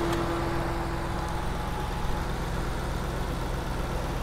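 A 6.4 liter Hemi V8 in a 2022 RAM 2500 pickup idles with a steady low rumble, a deep, even drone continuous with no other sounds.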